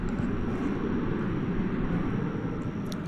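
An American Airlines Boeing 777 jet at DFW Airport produces a steady, broad roar from a distance that holds evenly at moderate loudness for a few seconds.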